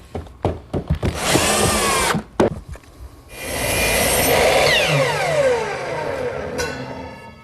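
A power drill driving screws into the wooden frame of a chop saw station, with several short whirring bursts followed by a longer sustained run that winds down as the screw seats.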